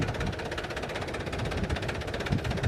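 Tractor fitted with oversized monster tyres, its diesel engine running with a steady rhythmic knocking throb, loud and close, continuous with no talk.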